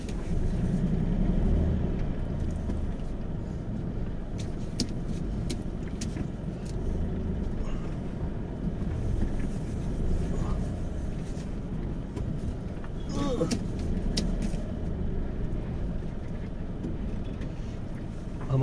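A white car is turned around on a forest road near Jim Corbett, its engine a steady low rumble throughout, blended with wind and outdoor noise, with no clear change in pitch or pace.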